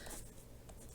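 Writing on a board during a mathematics lecture on series convergence, heard as a brief, faint scratchy stroke sound close by, with no speech over it.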